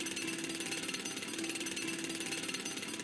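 Jackhammer pounding at a theme park building site during roller coaster construction, a steady rapid hammering with no break, heard from some distance and fairly faint, with no voices.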